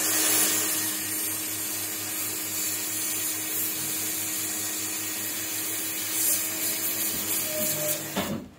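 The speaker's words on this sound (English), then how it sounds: "Now we will blow the air from this side to outside." Steady hiss and whir of a hot air rework blower held on the solder pins of a charging port on an Alcatel 8092 tablet, constant and close, with a brief clatter at the end.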